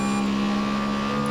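A GT3 race car engine in the Grid Autosport racing game drones loudly and steadily at a constant, high-pitched tone, with no talk over it.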